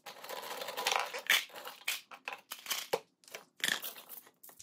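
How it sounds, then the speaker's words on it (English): Silica powder tipped into porcelain clay slip, a series of dry rustling, crunching pours and crinkling bursts separated by short pauses, close and moderately loud. "Add the silica."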